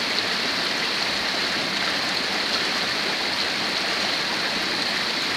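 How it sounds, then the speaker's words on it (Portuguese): Heavy rain pours steadily in Olinda, a dense, continuous hiss of water on surfaces at close range, loud and unbroken, with no voices. "Chuva em Olinda, muita chuva."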